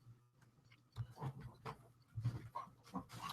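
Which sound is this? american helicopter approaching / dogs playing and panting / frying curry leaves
dogs playing and panting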